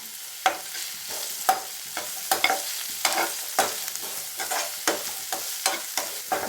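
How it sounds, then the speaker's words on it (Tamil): Onion sautés with a pinch of salt in a pan for a snake gourd fry, a soft continuous sizzle broken by regular sharp scrapes and clacks of stirring, close and without talk. "ஆனியன் நல்லா வதங்கணும்"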